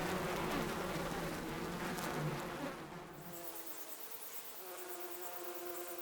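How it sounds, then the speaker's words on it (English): Wild honeybees buzzing as they fly in and out of a small opening in a hollow tree trunk in a Japanese forest, a soft, continuous drone with overlapping wingbeats that thins out partway through. "Honeybees are busily coming in and out"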